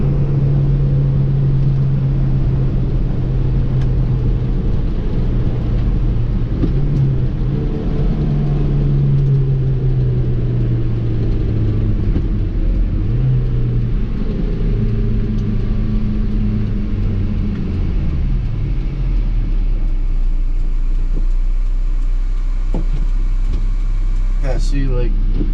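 A supercharged 1993 Subaru Sambar's small engine runs steadily with a low rumble and shifting drone as the microvan drives, and a person talks over it throughout.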